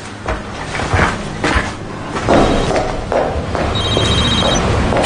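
A phone line rings on a call in a dubbed science-fiction film: two short electronic ring bursts, thin and steady, heard over heavy rumbling noise and thuds.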